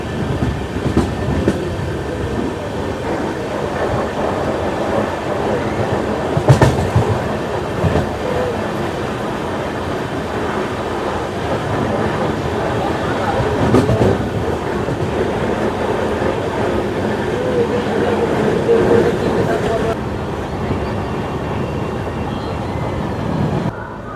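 The 12704 Falaknuma Express, running from Secunderabad to Howrah, rolls on near Brahmapur in Odisha with a steady rumble and rhythmic wheel clatter, sustained and fairly close throughout, with brief louder jolts.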